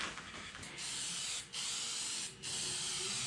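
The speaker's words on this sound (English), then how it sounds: "he's going to have to spray the contact stuff on it." A steady hissing spray from an old aerosol can of contact adhesive, nearly continuous with two brief pauses where the nozzle is released, close and fairly loud.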